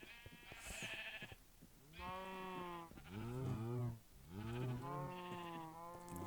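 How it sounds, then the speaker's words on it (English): Sheep in Minecraft bleat in a run of four or five drawn-out, wavering calls, fairly close and clear, with short gaps between them and no talking over them. "if I can keep working on getting these sheep in, get them dyed"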